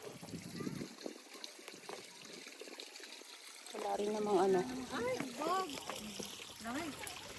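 Cold water trickles and splashes steadily over rocks nearby at a geopark while a person talks over it partway through.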